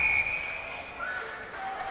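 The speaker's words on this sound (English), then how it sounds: "And a whistle." Referee's whistle at a high school boys ice hockey semifinal, a sustained shrill blast at the start then shorter faint toots over steady arena crowd noise.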